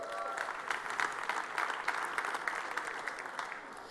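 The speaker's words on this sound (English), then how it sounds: "let's give it a warm applause for the first team" An audience at the Arctic15 startup event applauds warmly for the insect-farming team Entocube, a dense, steady wash of many hands clapping that holds at an even level for several seconds.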